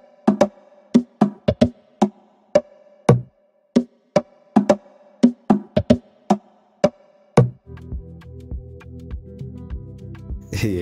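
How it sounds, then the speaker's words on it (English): Amapiano percussion programmed in FL Studio with the hi-hat muted plays a loose pattern of sharp, punchy hits, followed by a denser, sustained layer of tones and a final bright burst. "So the next thing I actually added was the percussion and actually a hi-hat."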